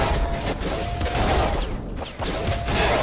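Rapid gunfire bursts in the top-down shooter Nuclear Throne as snowbots are fired on, dense overlapping shots filling the whole stretch with a brief dip near the middle, mixed with game music.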